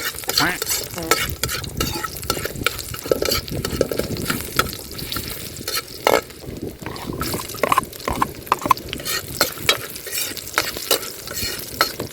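Garlic fries in a pan for a spicy cane toad dish, a continuous close sizzle broken by frequent stirring scrapes and clatter, with no speech.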